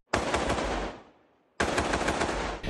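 Rapid gunfire from rifles and a pistol shot from a rooftop, two loud dense volleys of fast repeated shots separated by a short decaying gap, with no voices.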